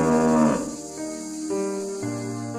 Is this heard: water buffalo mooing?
yes